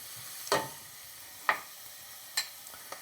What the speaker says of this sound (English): As the garlic starts to pick up some color and starts to jump around in the hot oil